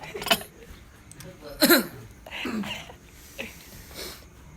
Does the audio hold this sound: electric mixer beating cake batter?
no